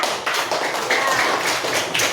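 Quick, patterned clapping from a group in a Catholic religious education class, a rhythmic run of claps over about two seconds.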